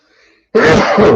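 One loud, close sneeze bursts out abruptly after a brief faint murmur, dense and forceful for about half a second.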